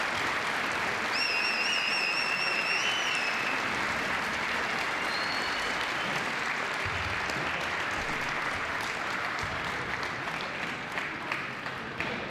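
Spectators at the men's padel final of a P2000 tournament in Nantes clap for the players, a sustained, moderately distant applause with a few whistles rising above it early on.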